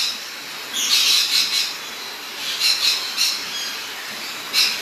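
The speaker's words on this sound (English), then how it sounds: "an eclectus parrot." An eclectus parrot at a park squawks in several harsh, piercing bursts, loud and close, with short pauses between calls and no talking.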